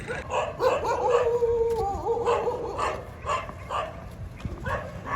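A five-year-old Boxer dog barks and whines during off-leash training, repeated yips and howl-like whimpers at close range over several seconds, with a little background noise.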